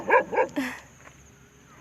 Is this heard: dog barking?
yes